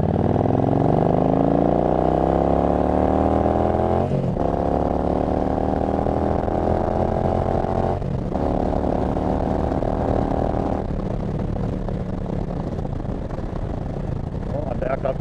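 A Yamaha V Star 1300 motorcycle engine drones loud and close while riding at speed in fourth gear around 90 mph, its pitch climbing steadily with brief dips at gear changes or throttle lifts, and wind noise throughout.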